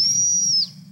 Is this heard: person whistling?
yes